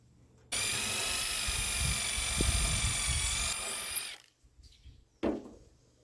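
A power drill whirs loudly for about three and a half seconds driving a screw into a tractor gas tank mount on a Cub Farmall, winding down with a few clunks and a short final burst.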